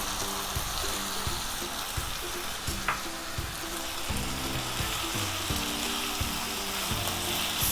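Paneer cubes sizzle in a kadai of masala with lightly cooked, crunchy vegetables: a steady, close, dense frying hiss with stirring noises and a low tonal hum underneath throughout.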